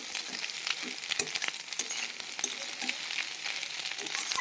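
Sliced onions sizzle in a pan on a medium flame with a steady soft crackle. Irregular scraping strokes of a stirring spoon come through close and clear.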